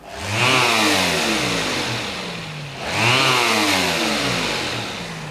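A shop vac motor whines up loudly, runs, dips briefly and surges again, a strong close droning roar with rising pitch.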